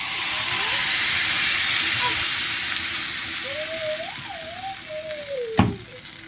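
Liquid poured into a hot pan while making chutney, a broad steady hiss and sizzle that slowly fades, with a sharp clink near the end and a faint tonal whine in the background.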